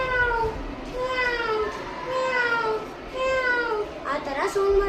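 A person imitates a cat near a farm grove, voicing a series of drawn-out, wavering meows one after another. The last call rises sharply, and background hum runs underneath.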